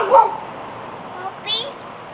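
A puppy gives a short, high yip followed by a faint squeaky whimper, close by in a quiet room, no one talking.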